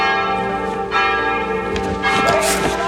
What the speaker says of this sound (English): the sound of the bell signaling Daryl's return